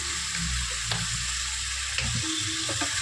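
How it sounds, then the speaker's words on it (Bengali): Ground spices and turmeric sauté in hot oil in a pan for a tengra fish curry, a loud close sizzle with a low rumble and a few faint scraping clicks. "ভালো করে কষিয়ে নেবো মশলাটা"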